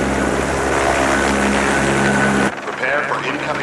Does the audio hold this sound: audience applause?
no